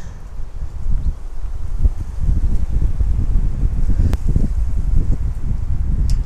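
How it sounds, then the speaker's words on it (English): Strong wind buffeting the microphone at a cliff-top lookout over Cathedral Cliffs, a steady low roar with gusty rumbles throughout and a couple of brief sharp clicks, no voices. "Did I mention it was windy?"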